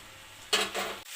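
A spoon briefly scrapes and stirs Bengali kohlrabi curry in a pan, a short sizzling swish of about half a second against quiet kitchen background.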